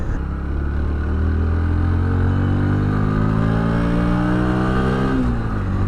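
A Bajaj Pulsar NS 125 motorcycle engine is heard while riding, running loud and close with a steady rising drone that climbs smoothly through the revs past 7,000 RPM, then drops briefly as it shifts up, with no talk.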